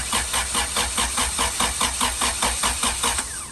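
Honda Integra engine cranking over on its starter during a start-up attempt, a loud, rapid rhythmic churning that pulses steadily throughout without catching, close up with no talking.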